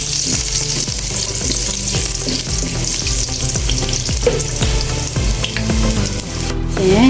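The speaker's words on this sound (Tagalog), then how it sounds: "Mainit na po yung mantika so ilalagay na natin yung ating uh, ah, luya. Ngayon natin igisa na yung luya." Ginger sautés in hot oil, a loud, close, continuous sizzle and crackle with rhythmic scraping and stirring strokes from a utensil against the pan.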